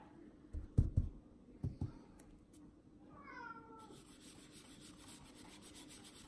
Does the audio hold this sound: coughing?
no